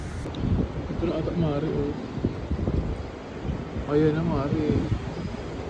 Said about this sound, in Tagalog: Yung hipa ng hangin super lakas.